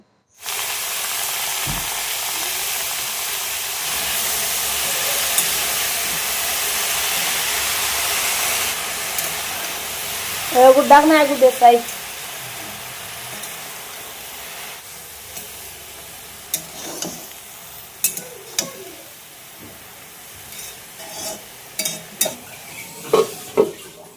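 Greens and chillies fry hard in a pan over high heat, with a loud steady hiss at first, then utensil scrapes and clinks as they are stirred, and the sizzle fades to softer crackling between scattered knocks.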